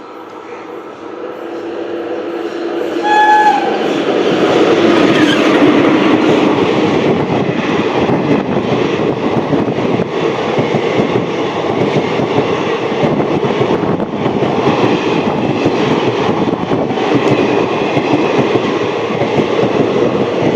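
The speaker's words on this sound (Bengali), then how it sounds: "এটা গেল তিস্তা তোরসা এক্সপ্রেস" Teesta Torsa Express passing at a station, hauled by a WAP-4 electric locomotive, with a brief horn then a loud, sustained roar and rattle of wheels and coaches rushing close by.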